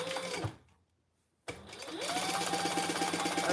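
Sewing machine top stitching two rows on vinyl for a travel case: a steady, close motor whir and needle chatter, stopping for a second's pause before running on again.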